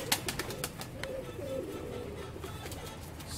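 Pigeon cooing softly at a breeder's setup, a low repeated coo close by amid faint rustling and scattered bird sounds, with no talk.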